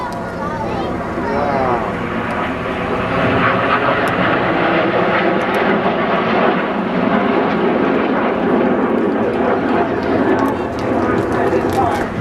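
Display aircraft performing a vertical break at an air show, loud engine roar sustained throughout under a commentator speaking over the public address.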